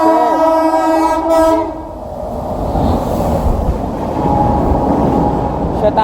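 Shatabdi Express train passing in heavy rain on the Mumbai–Ahmedabad line, opening with a long two-tone horn blast, then a loud, steady rumble of wheels and coaches rushing close by under falling rain, with a brief word from a man.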